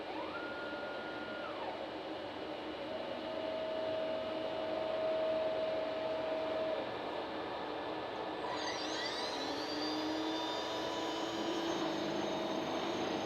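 A CNC router running a profile toolpath in ash wood gives a steady, loud, broadband whine and roar throughout, with a spindle tone shifting pitch partway through.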